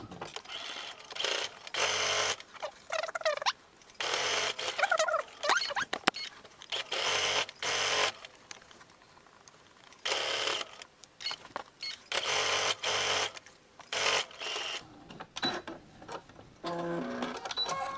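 A sewing machine stitches a tote bag made from coffee packets, running in repeated loud bursts of rapid needle clatter separated by short pauses, close and alone.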